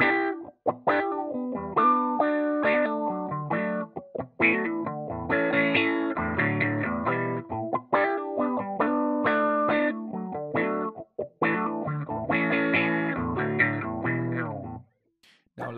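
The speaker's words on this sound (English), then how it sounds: "now I'm gonna combine the envelope filter with an overdrive" Electric guitar played through an envelope filter into a Vox Big Band Overdrive pedal, a funky, driven neo-soul line of quick chords and single notes with a wah-like, sweeping filtered tone, continuous and loud, no talking.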